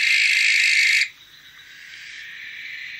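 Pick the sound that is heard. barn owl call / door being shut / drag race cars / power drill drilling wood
barn owl call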